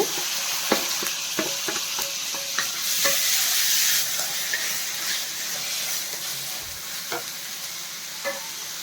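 Tomato and curry leaves fry in a pan with a steady close sizzle and hiss, broken by repeated stirring scrapes and clicks, with no talking.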